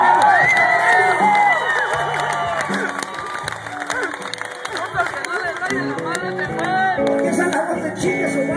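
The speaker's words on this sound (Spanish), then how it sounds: "¡Aplausos, como dice mi compañero!" Crowd at a rock concert in the OK Corral, Oklahoma City, cheering, whooping and clapping loudly throughout, with shouts and voices rising above the dense applause.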